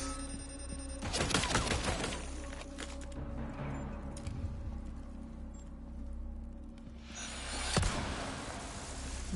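A gunshot in Resident Evil 4 Remake bursts out amid quiet game ambience, followed later by another sharp crack and a rumbling blast.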